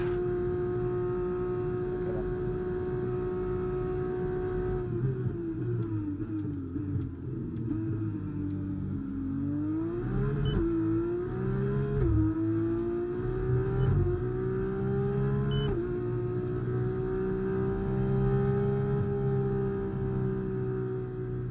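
Race car engines in a racing video game on the final lap, a loud sustained engine drone with gear-shift dips and rising revs, steady and close throughout.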